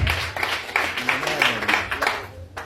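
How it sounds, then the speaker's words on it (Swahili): A church congregation claps for the children, several rhythmic bursts of hand claps over a roomy background, with a voice speaking through them. "Wapigieni watoto wetu makofi."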